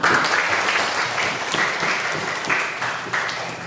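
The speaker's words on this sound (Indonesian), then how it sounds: "terima kasih dan aplaus untuk kita semua" A classroom of students claps together in a dense, lively burst of applause that carries on steadily for several seconds, close and loud.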